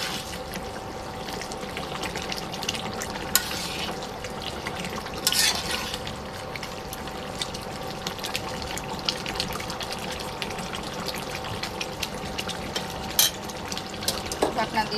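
Chicken skin with a few pieces of meat being stirred and sautéed in a pot as a curry that still has liquid, giving a steady wet bubbling and scraping texture with occasional louder clinks.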